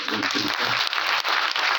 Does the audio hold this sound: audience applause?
yes